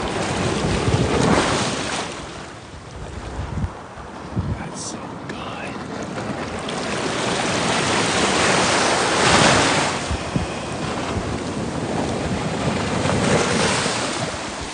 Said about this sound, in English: I'm gonna be quiet so you can hear this ocean